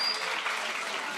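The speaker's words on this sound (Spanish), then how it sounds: "Un aplauso para Isidro, se lo merece" Faint, brief applause from an audience at a Coca-Cola presentation, a steady patter of many hands with no talking.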